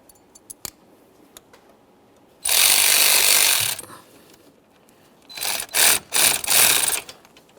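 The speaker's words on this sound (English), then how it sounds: "This is the 10mm headed mounting bolt. We'll start it in and snug it up." Ratcheting snug-up of a 10mm mounting bolt into the fan shroud of a 2013-2020 Ford Fusion 2.0L during radiator replacement: a couple of sharp clicks, then one long buzzy burst and several short rasping bursts close by, with no talk.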